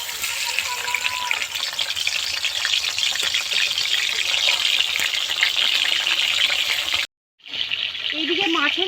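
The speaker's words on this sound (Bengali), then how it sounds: "এবার মাছের মাথাটা দিয়ে দেব তেলের মধ্যে" A fish head fries in hot mustard oil in a kadai, giving a steady close crackling sizzle that runs almost throughout, briefly cutting out before resuming, with faint background noise.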